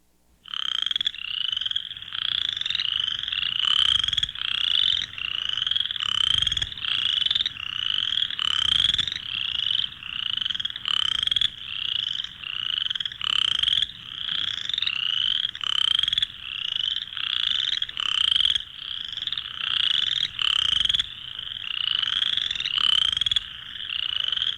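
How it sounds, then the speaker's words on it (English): A chorus frog of the eastern North American mountains calls steadily, each note a rapid rasping trill like a finger drawn along a comb, repeated in a dense, even rhythm that fills the whole stretch, loud and close with no voices. "Its voice, like that of the preceding species, resembles the sound produced by drawing a finger along a comb."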